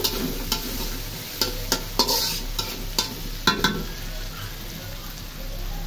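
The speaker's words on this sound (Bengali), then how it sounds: "মাংসটা দিয়ে দিচ্ছি কড়াই" Chicken pieces sizzle in a hot wok for biryani while a spoon stirs them, with sharp scraping clacks against the metal every second or so over a steady frying hiss, close up and without talk.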